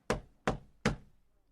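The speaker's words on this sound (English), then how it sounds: "Someone knocked on Richard's door." Three sharp, evenly spaced knocks on a door ring out close and clear, followed by silence.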